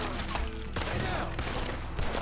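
Gunfire in a Red Dead Redemption 2 shootout: a dense, crackling fusillade of overlapping shots keeps up steadily for a couple of seconds, loud and close, with no one speaking.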